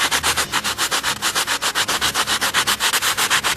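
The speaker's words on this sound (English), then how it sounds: "so let's just keep sanding" Rapid back-and-forth hand sanding of wood filler on a model helicopter rotor blade from a Blade CP Pro, about six even rasping strokes per second, close and steady throughout with no talking.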